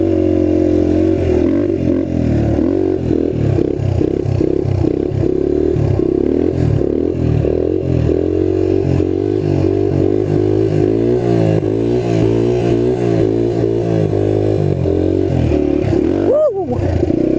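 A trail bike engine rumbles steadily and loudly while the bike is ridden through the woods, with clattering and scraping from the terrain. The engine revs slightly near the end.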